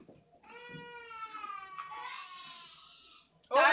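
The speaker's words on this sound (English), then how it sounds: "sorry if you guys hear baby talk crying back there" A baby cries in the background, a faint, wavering, sustained wail lasting a few seconds before a louder burst of nearby sound cuts in.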